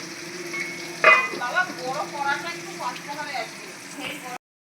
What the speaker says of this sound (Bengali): কড়াইতে ডিপ ফ্রাই করে ভালো করে হয়ে যায়